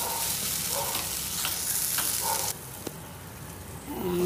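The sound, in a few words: vegetables frying in a pan for a veg sandwich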